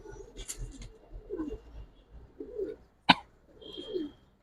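Racing pigeons in a loft coo in soft, low, repeated phrases at close range, with one brief sharp click or flutter in between and quiet gaps between calls.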